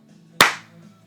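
A single sharp hand clap, loud and close, decaying quickly in a small room at the start of a hunting podcast.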